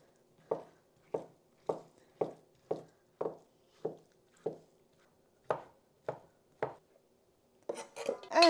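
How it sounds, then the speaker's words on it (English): Knife chopping cheddar-style Derby cheese curds made from raw milk, about a dozen crisp, evenly paced chops close up, then a brief clatter of handling at the end. "It looks like a lot more now that it has been chopped."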